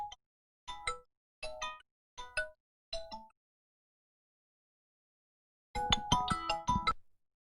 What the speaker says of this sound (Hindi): कहाँ से फोन आ रहा है?